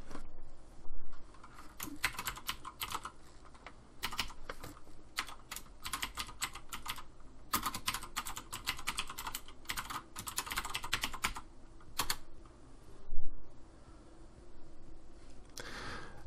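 Rapid clicking keystrokes on a computer keyboard, typed in irregular bursts with brief pauses and an occasional louder key press, close and alone.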